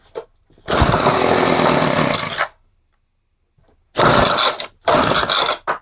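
A discarded hedge trimmer engine on full choke and full throttle is pulled three times, each a loud rattling ratchety whir of the recoil starter, the first lasting nearly two seconds and then two shorter pulls close together, with no catch.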